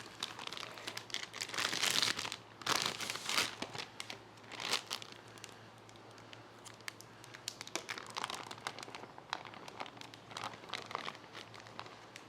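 Double-bagged plastic freezer meal bag crinkling up close, with irregular bursts of crackling and rustling as the bag is handled, fairly quiet and without talk.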